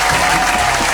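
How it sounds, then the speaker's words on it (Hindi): A burst of loud, dense clapping from a crowd, brief and close. "तालियां।"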